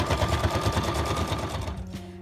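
A sewing machine stitches a chair cover, running in a fast, steady mechanical chatter, loud and close, easing slightly toward the end.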